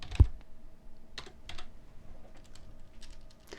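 Fingers type a folder name on a computer keyboard, producing a short run of light, irregular key clicks with one louder thump near the start, close and quiet with no speech.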